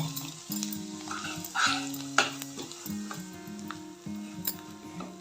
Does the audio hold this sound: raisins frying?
yes